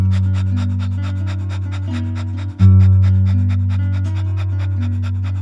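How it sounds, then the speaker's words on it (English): A person does fast, rhythmic panting breaths as a guided meditation breathing exercise, each puff evenly spaced, over a loud sustained musical drone. "as you take in that breath, then you do a panting"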